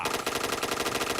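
Rapid automatic gunfire from the video game Point Blank, a dense, steady burst of shots fired in quick regular succession, loud and continuous with no talk over it.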